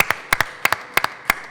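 A congregation clapping, with sparse, separate claps in a loose uneven rhythm, fairly close and clear, with no voices over them.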